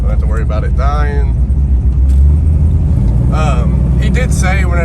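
A steady low rumble comes from a 500hp Pontiac WS6 while driving, running continuously beneath someone talking in the cabin.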